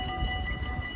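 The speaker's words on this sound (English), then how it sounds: "I'm waiting for the train to pass." A long train rolling past nearby, a steady low rumble with rail hum and faint tonal squeal holding evenly throughout, moderately loud with no voices.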